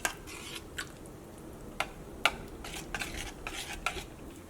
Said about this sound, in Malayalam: ഇതെല്ലാം കൂടിയിട്ട് നമുക്ക് മിക്സ് ചെയ്യാം.